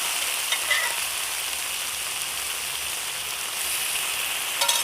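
Mutton sizzles steadily in hot oil after its stock has cooked off, with a spoonful of the mutton boiling water added to the pan. A dense, continuous fry runs at even loudness throughout, with brief spatters and a louder burst near the end and no talk.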